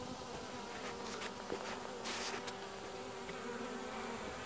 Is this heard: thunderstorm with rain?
no